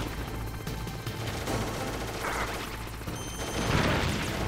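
Enemy gunfire rattles through a Metal Gear Solid game battle, a continuous dense spray of shots mixed with game noise at moderate volume.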